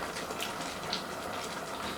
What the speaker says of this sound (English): Let me add some little drop of water